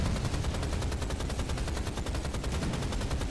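Rapid gunfire from a weapon in the PC shooter Rise of the Triad, a dense continuous burst of repeated shots filling the whole stretch at steady loud level with no talk.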